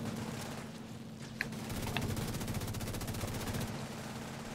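Rapid automatic gunfire from a multiplayer video game shooter, sustained bursts of fast repeated shots at a steady moderate level with a couple of sharper single cracks, no talk over it.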